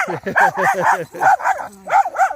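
Rapid, high-pitched yappy barking from small dogs, close and loud, in quick bursts with a brief whine in between.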